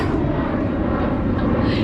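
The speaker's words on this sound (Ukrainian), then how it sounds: "мною пролітає літак" A fixed-wing airplane passes overhead near Tivat airport in Montenegro, a steady, loud, broadband engine roar that holds throughout without any talk.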